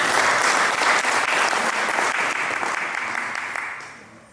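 A large crowd applauds steadily, a dense wash of clapping that holds loud for several seconds before tapering off at the end.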